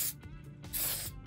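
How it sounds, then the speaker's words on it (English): CLP cleaner sprays from a can into a handgun slide in a few short, close hissing bursts, quiet and alone. "Take my trusty CLP,"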